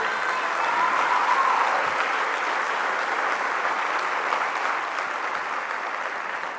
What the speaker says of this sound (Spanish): Quiero pedir un aplauso para Laura